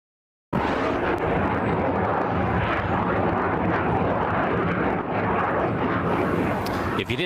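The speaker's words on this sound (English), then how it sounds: "A military jet flying around southeastern Wisconsin." A military F-35 fighter jet passes over southeastern Wisconsin, a loud broadband roar starting abruptly and holding steady and powerful throughout, close and dominating with no talk.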